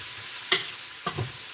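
A spoon scrapes twice through potato and ham soup in a pot, two short, close stirring strokes over a quiet simmering hiss.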